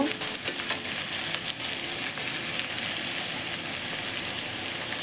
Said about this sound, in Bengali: সামান্য লবণ তারপরে এটাকে নেড়ে করে একটু কষিয়ে নেব